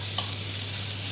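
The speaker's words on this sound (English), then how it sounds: "after I did the garlic, I'm going to add the onion" Garlic and onion fry in a pan for Mongolian beef and fried rice, giving a steady close hiss of sizzling oil with a faint stirring scrape and no voices.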